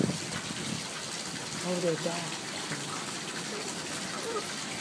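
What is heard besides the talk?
hose water running onto a roof gutter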